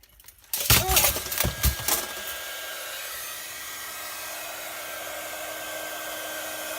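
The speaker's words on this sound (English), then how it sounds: "I'm going to get my heat tool and we'll get some magic happening" An electric heat tool for embossing on a papercraft card box blows hot air in a steady whirring hiss, starting after a few sharp clicks and clatters and then running on evenly.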